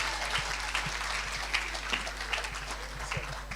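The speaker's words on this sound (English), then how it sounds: "May we have another round of applause for this amazing gentleman" Banquet audience applauding in a steady wash of clapping, moderately distant and even throughout, with no talk over it.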